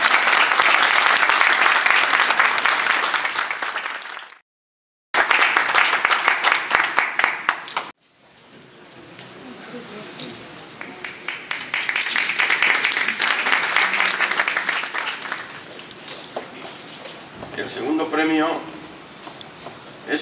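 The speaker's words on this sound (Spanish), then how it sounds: "Un aplauso para él." Sustained audience applause at an art exhibition award ceremony, loud and dense clapping that breaks off briefly, then resumes in waves, with a presenter speaking over parts of it.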